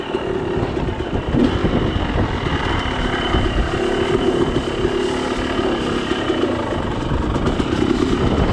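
A dirt motorcycle pulling wheelies on dry hard-pack off-road terrain gives a loud, close, continuous engine roar with steady droning and wind buffeting throughout, no talking.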